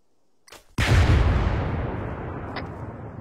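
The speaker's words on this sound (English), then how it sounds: "I think it was a vehicle that just blew up." A vehicle blows up in a military shooter video game: one sudden, loud, close blast after a short thud, leaving a long rumbling decay that fades slowly.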